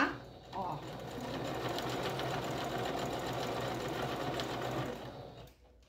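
A sewing machine stitching a seam on fabric scraps for a placemat, a fast, even mechanical whirring that runs close and steady for about five seconds before stopping, with someone speaking softly over it.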